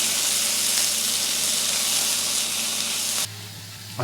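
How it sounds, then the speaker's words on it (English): Partly thawed frozen peas being stirred through a frittata mix in a hot pan make a loud, steady, close sizzle that stops abruptly near the end, leaving a quieter hiss and a faint clink. "we're just going to stir them through for 1 minute"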